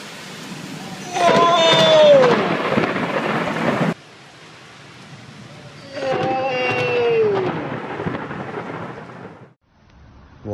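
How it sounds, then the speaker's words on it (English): Thunder from lightning strikes during a thunderstorm with rain, two loud crashing bursts a few seconds apart, each cutting off abruptly, with quieter rain noise in between. "Lightning strikes don't just hit the roofs of buildings."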